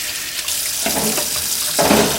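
Cut fish pieces being washed under a running kitchen tap for drying, with a steady loud rush of water into a sink and splashy surges as the fish is moved under the stream.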